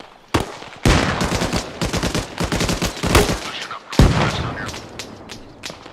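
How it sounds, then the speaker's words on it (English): Heavy gunfire in the military game Arma Reforger, loud sustained automatic bursts and single cracks trading back and forth, close and echoing, with a quieter tail near the end. "Well, do it now, because they're shooting at us."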